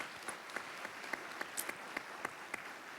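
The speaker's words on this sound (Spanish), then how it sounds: "para quien por favor les pido un gran aplauso" Applause from an audience at a formal agreement-signing ceremony, a steady wash of clapping with scattered sharper claps standing out, moderately faint and continuous throughout.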